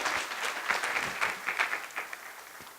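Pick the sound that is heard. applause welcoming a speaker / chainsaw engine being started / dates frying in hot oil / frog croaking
applause welcoming a speaker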